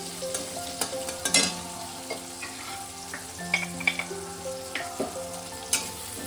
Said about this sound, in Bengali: পেঁয়াজটা আমি মিনিট খানেক হালকা করে ভেজে নিলাম